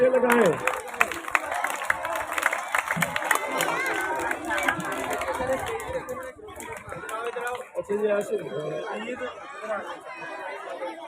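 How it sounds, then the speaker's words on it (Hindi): At a school Independence Day function, a gathered crowd applauds a fifth-grade student winner; scattered clapping runs under steady chatter and an amplified voice for about eleven seconds. "ज़ैन नवीद के लिए तालियां लगाएं"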